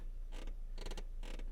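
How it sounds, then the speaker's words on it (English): Creaking clutch pedal in a 2004 Toyota Yaris, three distinct squeaky creaks spaced evenly as the pedal is pressed and released, close and clear over a low steady cabin hum, no talking. "The only problem is there's a bit of a creaky clutch,"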